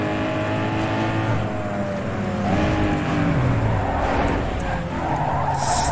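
A car in Need for Speed Underground 2 skids through a corner after a handbrake tap, its tires squealing over a steady engine drone for several seconds, loud and continuous.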